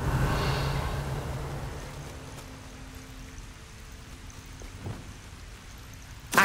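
A waterfall in the Hogwarts Legacy video game, a steady rushing hiss like heavy rain that is strongest at the start and then settles to a softer continuous wash, with a few faint clicks.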